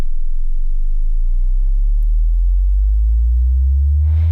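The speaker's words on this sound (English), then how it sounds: "So this is a really good instrument to use for very long continuous rising notes." A pure, steady sine tone from an Ableton synthesizer sits very low and slowly climbs in pitch, with a brighter burst near the end.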